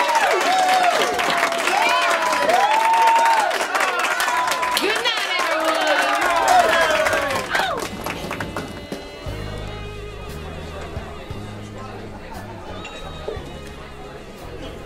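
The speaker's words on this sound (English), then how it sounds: "Let's give them one more round of applause." Voices and melodic sounds dominate the opening stretch at a burlesque show, then give way to a looser patter of audience clapping and crowd chatter, with a rhythmic low music pulse entering late.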